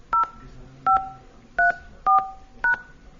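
Five short, loud two-tone keypad beeps sound in an irregular sequence as card digits are keyed into a phone prompt, each tone distinct and close, with quiet background between presses.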